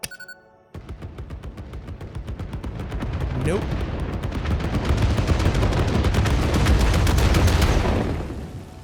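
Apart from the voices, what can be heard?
explosives going off in the video game Satisfactory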